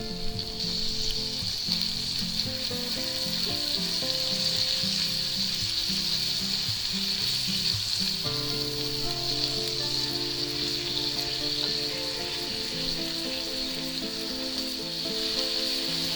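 About a teaspoon of minced garlic sizzling in butter in a pan, a steady loud frying hiss with faint stirring clinks, continuing evenly throughout without talk.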